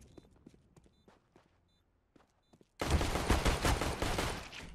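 Gunfire in the video game CS:GO: a few faint clicks and soft taps give way to a sudden loud burst of rapid, dense shots that continues to the end.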